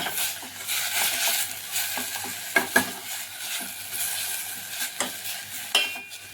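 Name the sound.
pumpkin being stirred and cooked in ghee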